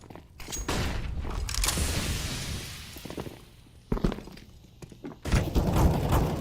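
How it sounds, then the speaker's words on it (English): In-game flashbang and fire grenade go off in a shooter, producing bursts of harsh crackling noise and thuds with a sustained roar between, near and fairly loud. "Throwing fire! I'm throwing flashbang!"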